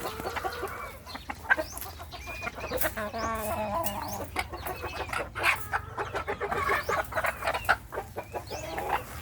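Native chickens and a rooster cluck busily and close at hand, a dense run of overlapping clucks and short calls with no talk over them.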